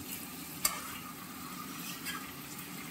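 Chicken masala sizzles and fries in a pan while being stirred, a steady quiet crackle with one sharp utensil scrape early on.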